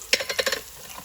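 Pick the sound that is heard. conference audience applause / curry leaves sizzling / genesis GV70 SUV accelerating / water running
curry leaves sizzling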